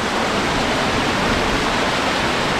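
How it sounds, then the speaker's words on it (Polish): Water flows in a cave near a glacier, a dense, loud, continuous hiss of running water with no pauses. "Woda wycieka. Nie wiadomo skąd, daleko, daleko."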